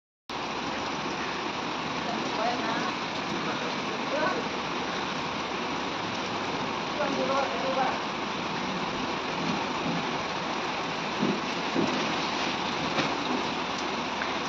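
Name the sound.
heavy rain falling outside at night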